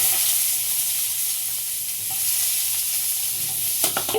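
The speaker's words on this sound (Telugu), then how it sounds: "టమాటా తీసేస్తున్నాం ఇప్పుడు వేగింది" Tomatoes fry in a pan of hot oil for a chutney, giving a steady, close sizzle with faint stirring scrapes throughout and a few sharper crackles near the end. No one speaks.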